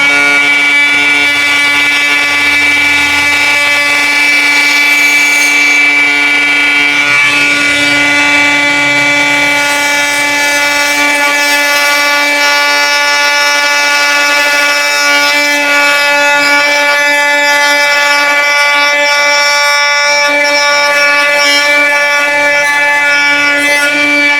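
A loud, continuous high-pitched buzzing drone of a Dongcheng DCMD20 oscillating multi-tool at full speed, cutting wood with a wood blade, steady throughout with no pauses.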